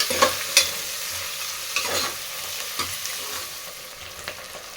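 Onions roast in a hot pan, a soft sizzle running underneath as a utensil stirs and scrapes them in several distinct knocks and swishes, close and fairly loud.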